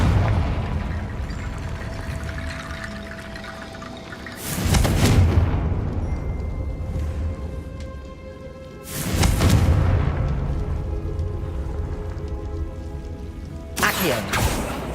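Heavy booming blasts from the Confringo explosion spell in Hogwarts Legacy, three separate bursts several seconds apart over a rumbling game soundscape.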